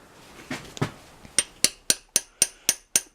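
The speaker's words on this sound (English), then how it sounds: "So we will try a hammer and a punch quick" Hammer striking a punch to drive out a broken head bolt on a Briggs engine: about eight sharp metallic knocks in a steady rhythm, close and clear, after a couple of softer taps.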